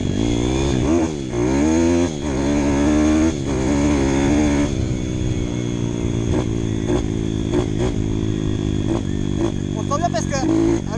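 A 2012 CRZ 150 S motorcycle in rough condition runs on a test, its engine droning steadily and close by with small throttle swells, while someone talks over it throughout.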